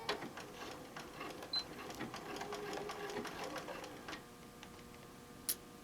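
A sewing machine stitches a fabric name tag with a steady run of rapid needle ticks, moderately close and fairly quiet, pausing briefly near the end.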